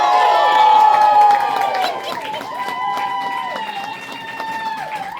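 An audience at a close-up magic show cheers loudly. The whoops and shouts are sustained at first, then fade into scattered voices and calls.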